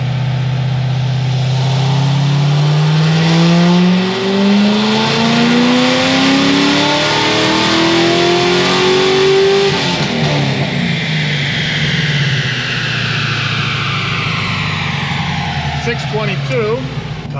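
Corvette C6Z with an Edelbrock supercharger, its engine revving loud and close as the pitch climbs steadily over a long pull with a whining blower on top, then drops away.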